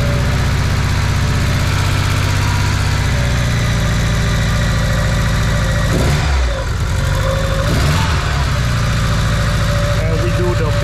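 Nissan Pulsar N13 engine idling low and steady through a custom exhaust, a deep continuous rumble with a couple of brief dips in the middle, close and loud, with someone talking over it.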